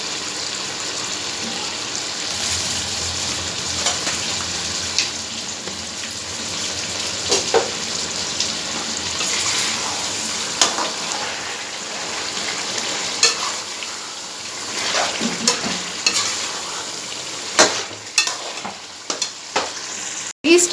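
Masala for chicken biryani, with kalonji, chaat masala and mint leaves, fries in a pot. It gives a loud, continuous sizzle broken by scraping stirring strokes near the end.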